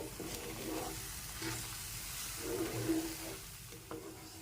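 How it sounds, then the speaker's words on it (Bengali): Fried semolina and palm fruit are stirred together in a warm pan to form a dry dough for modak. A soft, low sizzle sits under quiet, intermittent scraping strokes. "তালের সাথে সুজিটা খুব ভালো করে মিশিয়ে ডোটা বানিয়ে নিতে হবে"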